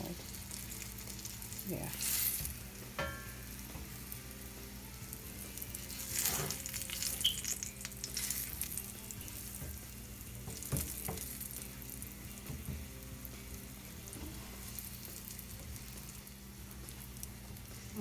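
Quinoa patties fry in a pan over moderate flame with a faint, steady crackling sizzle and occasional louder spatter and scraping as they are flipped, while a person talks briefly nearby.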